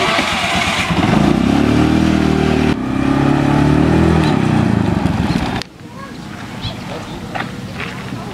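A motorcycle engine runs loudly nearby with a low droning rumble for several seconds, then cuts to quieter street ambience with voices in the background.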